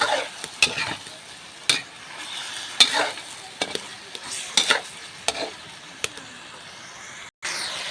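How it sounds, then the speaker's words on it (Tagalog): Chicken adobo cooking in a pan on a magic kalan stove, stirred with distinct spoon scrapes and clacks over a soft background sizzle, ending in a sudden brief silence. "ayan guys yung adobo natin sisilipin na natin at hahaluin natin guys"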